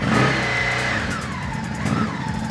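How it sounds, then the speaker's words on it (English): A 2020 Ducati Hypermotard 950 SP motorcycle engine revs loudly and close by. It holds a steady, throaty roar for a couple of seconds with slight swells in pitch, and no one talks over it. "Rev it up a little bit. Let's hear it."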